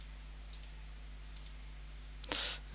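A computer mouse clicks a few times on a trading platform, faint and close, with a slightly louder click near the end and no talk.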